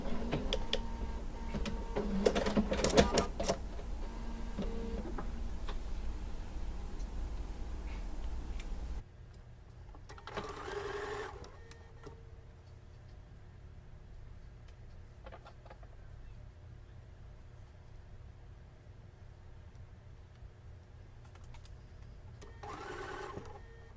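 A sewing machine stitches quilt seams in a loud burst of rapid stitching. After that come quieter, intermittent short runs and pauses with faint handling noise.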